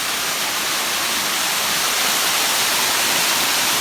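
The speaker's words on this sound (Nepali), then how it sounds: "झर्ना देखियो" A waterfall seen along a trail roars as a broad, steady rush of falling water, loud and unbroken, with no one speaking.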